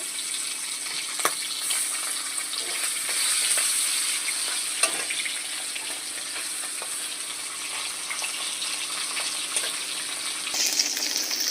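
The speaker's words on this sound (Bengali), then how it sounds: "দেখো এবার মাছ ছেড়ে দিচ্ছি মাছটাকে ভেজে নেব" Lata fish fry in oil in a wok, a loud, steady close sizzle and crackle that carries on throughout, with a few sharp pops and spatters.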